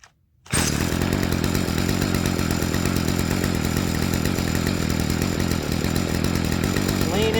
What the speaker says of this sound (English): And you'll hear the idle kind of come up, and then it'll start to die.